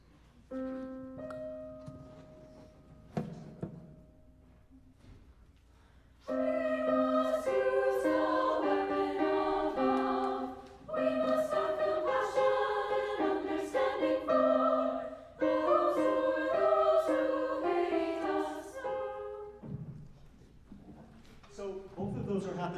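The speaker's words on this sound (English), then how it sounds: "the sopranos and altos then enter with a rhythmically much calmer plea" Sopranos and altos of a concert choir singing a calm, rhythmically slow plea in a minor key, sustained harmonized phrases in several swelling passages separated by brief pauses.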